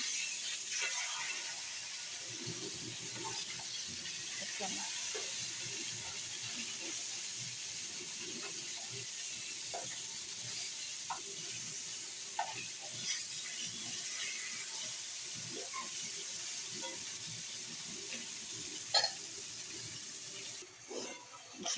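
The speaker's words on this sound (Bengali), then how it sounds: "আর এই যে আমি তেলাপিয়া মাছটা ভেজে নিতে আছি" Tilapia fish frying in oil gives a steady, moderate hiss with scattered soft pops and crackles throughout, no voices present.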